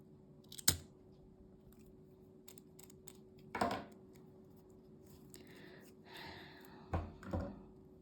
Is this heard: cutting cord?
yes